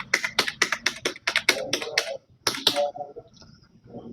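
Quick, crisp keystrokes clatter on a computer keyboard at a cyber cafe in a fast burst, pause briefly, then a few more taps trail off softly.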